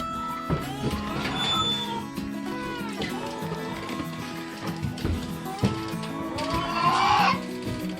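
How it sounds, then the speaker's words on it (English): Chickens cluck and squawk in a busy farmyard, mixed with cat-like cries and a higher screech near the end, with no one talking. "Good morning, baby chicks."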